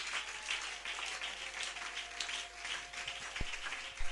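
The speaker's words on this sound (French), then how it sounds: "J'aimerais que tu acclames très très fort pour la gloire de Dieu" A church congregation applauds and cheers at a French-language evangelistic teaching service, steady dense clapping with scattered shouts heard from a distance, continuous throughout with no speech over it.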